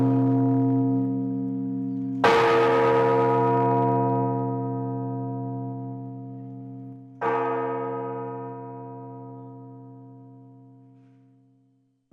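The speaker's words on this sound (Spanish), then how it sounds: "88 repiques de campanas se tocaron en la Catedral Metropolitana para recordar a Jorge Mario Bergoglio" Church bells ring at the Metropolitan Cathedral in memory of the late Pope Francis. Two heavy strikes sound a few seconds apart, each leaving a long, rich ringing decay that fades slowly, with no voices.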